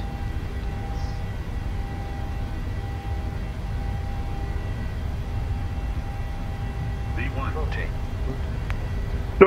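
Airliner jet engines spooling to takeoff thrust on a Munich runway, a steady, loud broadband roar with a faint tonal whine, joined near the end by a brief higher mechanical sound and a sharp click.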